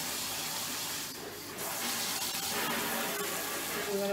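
A kitchen tap runs steadily while dishes are rinsed in the sink, a continuous close rush of water with slight shifts in tone as items pass under the stream.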